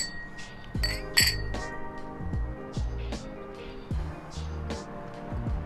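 Wine glasses clink together in a toast over Basque sparkling wine, with a few bright chimes near the start, followed by softer table sounds and low voices in the background.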